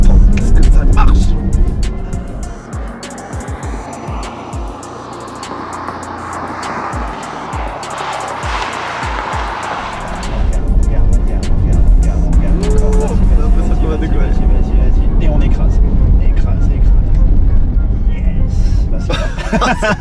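A Porsche sports car running on synthetic e-fuel accelerates hard, its engine note rising loud and close through gears as speech from occupants overlaps the sustained roar.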